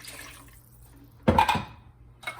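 A short splash and pour of water into a pot of cooking gravy around the middle, briefly louder over a quiet kitchen background, then settling.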